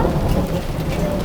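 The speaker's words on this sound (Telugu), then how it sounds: "తొందరగా తీసుకోండి వర్షం వచ్చేస్తుంది" Rain pouring steadily outdoors, a dense, loud roaring wash of drops close by with a low rumble underneath, no voices.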